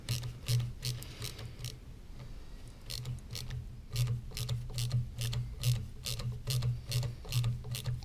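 A pipe clamp used as a piston ring compressor on a Willys Jeep engine rebuild gets tightened, giving a close, dry run of ratcheting clicks in uneven bursts with short pauses between.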